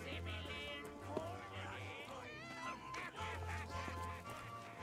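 Hens cluck and squawk at a pirate livestock auction in the game Sea of Thieves, a busy layered chorus of bird calls running under a steady low hum and overlapping voices.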